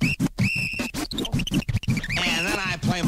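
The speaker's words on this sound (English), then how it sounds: "And now I play the whistles." Bright, steady whistle tones sound in short bursts and a held note over a busy backdrop of strummed ukulele chords and rhythmic thumping.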